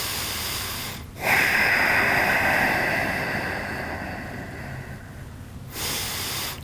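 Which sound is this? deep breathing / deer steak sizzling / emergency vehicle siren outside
deep breathing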